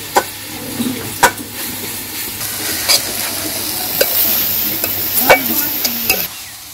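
Drumstick leaves fry in plain oil with salt in a village kitchen, with no onion or garlic. A loud, steady sizzle is broken by irregular scraping clatters as the leaves are stirred in the pan.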